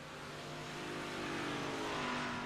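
A Big Block Modified race car engine roars at the Eldora dirt track during the Winter Nationals, a steady loud drone that swells slightly as the car carries on through the turn.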